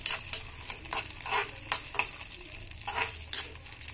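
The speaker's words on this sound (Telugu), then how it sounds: "పచ్చిమిరపకాయలు కొంచెం వేగనిద్దాం." Green chilies fry in a pan for a mint tomato chutney, giving a steady close sizzle broken by irregular scraping bursts as they are stirred about, with no voices.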